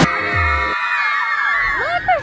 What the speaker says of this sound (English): And then Lily started getting the crowd excited because I was almost there